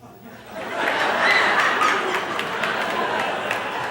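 A live audience at a Jim Carrey stand-up comedy show breaks into sustained applause mixed with laughter and chuckles, swelling within the first half-second and holding a dense, steady crowd roar to the end.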